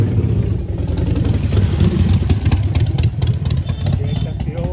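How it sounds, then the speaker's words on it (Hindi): Motorcycle engine running on a busy Delhi street near Nizamuddin, a steady loud rumble with traffic noise throughout and a voice talking over it. "बहुत ही खतरनाक गाड़ी है पीछे मोटरसाइकिल"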